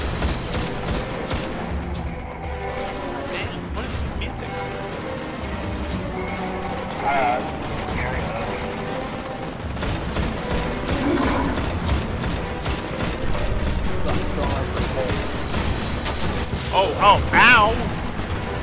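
Enemies firing at the player during a Destiny boss fight produce scattered gunshots and impacts in busy game combat, with a voice talking over much of the action.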